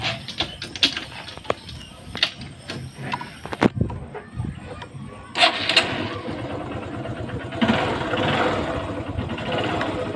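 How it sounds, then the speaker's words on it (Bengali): A motorcycle is started outdoors in a village: a series of sharp mechanical clicks and clacks come first, then the engine catches with a loud burst and settles into a steady, close idle. "বাইকটা স্টার্ট করে দিই"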